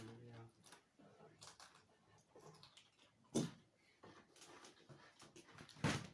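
A dog whimpers and gives a few short yips and barks, faint and somewhat distant, with a couple of louder sudden bursts.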